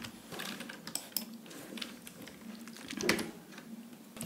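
Computer keys being pressed during an After Effects animation tutorial, a scattering of quiet, close clicks and taps at an irregular pace under faint room noise.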